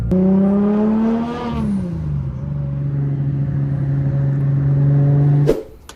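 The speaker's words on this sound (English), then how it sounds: "And my GTR with its brand new motor. Finally working." A Nissan GT-R with a brand new engine idles with a steady, smooth low hum, dipping slightly after a brief rise, then cuts off abruptly with a click near the end; no one speaks.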